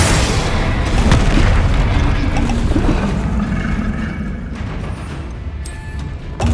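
Bombarda explosion spells in the Hogwarts Legacy video game, a dense, continuous barrage of booming blasts and rumbling impacts, loud and close, filling the scene without pause alongside other spell effects.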